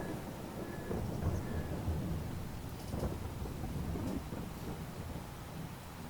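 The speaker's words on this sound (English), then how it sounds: "So we may be getting out of the rain here." Steady rain with low rolling thunder in a Farming Simulator 22 game world, a continuous wash of broadband noise with faint wind, fairly constant in level and without speech.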